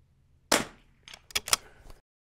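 A single sharp rimfire precision rifle shot cracks close and loud, followed after a short pause by a few quick metallic clicks and clacks of the action being worked, then silence.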